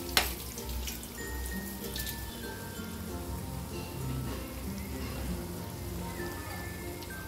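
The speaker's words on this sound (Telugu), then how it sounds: "మరొక 2 నిమిషాలు ఇలా ఫ్రై చేసుకోవాలి" Cabbage pakoda fritters frying in hot oil, a steady dense crackle and patter like rain running unbroken throughout, close and moderately loud with no talking.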